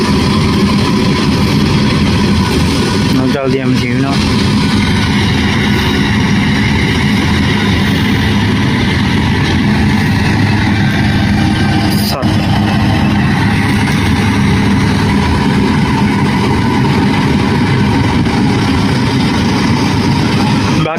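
A tractor used for paddy field work runs close by with a loud, constant engine drone. Its rumble stays unbroken throughout, with a faint clatter now and then.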